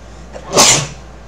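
A single sharp sneeze bursts out close to the microphone, breathy and loud for about half a second before fading back into quiet room tone.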